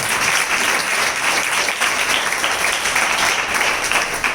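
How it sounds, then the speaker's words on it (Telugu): A church congregation clapping during Sunday worship, a dense continuous burst of applause from many hands, loud and sustained throughout. "గట్టిగా చప్పట్లు కొట్టి"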